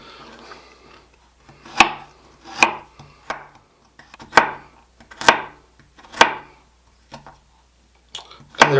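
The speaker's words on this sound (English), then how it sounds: "we're just going to do like the equivalent of a large carrot and baby carrots and just slice it." Knife slicing baby carrots on a cutting board, roughly a dozen sharp, distinct chops at an uneven, careful pace, close and fairly loud, with quiet gaps and no speech.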